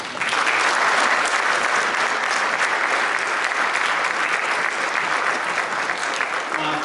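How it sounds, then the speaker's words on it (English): Dense, sustained applause fills a school winter band concert hall, loud and even from start to finish, with no voices rising above it. "Can we give a round of applause for them?"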